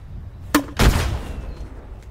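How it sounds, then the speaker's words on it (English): A Forged Tac GLM 40mm grenade launcher in ULTRAKILL fires twice up close: a sharp crack, then a louder, booming blast that rumbles and fades over about a second. "we have a Forged Tac GLM 40mm, a basic 40mm grenade launcher"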